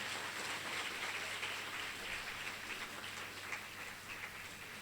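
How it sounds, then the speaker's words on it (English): Audience applause for second-year B.Ed students at a college of education biodiversity event, a steady, dense wash of clapping that holds at an even level throughout, with no talk over it. "a special round of applause for the second year"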